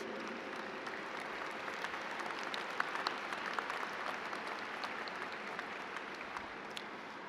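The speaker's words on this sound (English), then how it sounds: "Please give a round of applause to all those folks who pushed you, encouraged you, and love you through the various challenges you experienced as a student" An audience at a 2023 School of Education and Human Sciences convocation gives a round of applause for the graduates' supporters, even continuous clapping heard from a distance and fairly faint.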